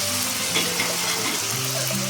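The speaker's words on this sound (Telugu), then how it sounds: "మరో స్టవ్ మీద ప్యాన్ పెట్టుకొని అందులో 1 స్పూను ధనియాలు, 1 ఇంచ దాల్చిన చెక్క, 4-5 లవంగాలు, 1 యాలకి, 1 1/2 స్పూన్ వచ్చి గసగసాలు వేసి వేయించుతుంది." Coriander seeds, cinnamon, cloves, cardamom and poppy seeds roast in a hot pan for an Andhra chicken curry, giving a loud steady crackling sizzle with faint stirring, close by and alone.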